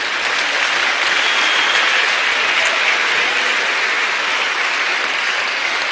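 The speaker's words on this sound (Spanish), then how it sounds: "Dele un aplauso al Rey bendito." A church congregation applauds during a pastors' study session, a loud, continuous roar of clapping that stays even and unbroken throughout.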